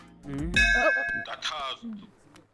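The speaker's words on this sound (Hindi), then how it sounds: "ये देख, घंटी बज गई, मतलब सच है।" A bright metallic bell-like clang rings out briefly, with people talking in Hindi around it, in a comedy film scene.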